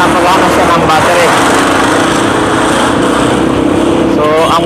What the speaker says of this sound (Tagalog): Bisikleta na mayroon siyang motor.